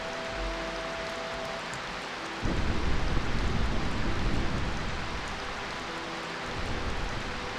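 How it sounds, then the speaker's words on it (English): Steady rain in Final Fantasy IX hisses throughout, with a low rumble of thunder swelling partway through and continuing underneath. "Sounds like it's raining."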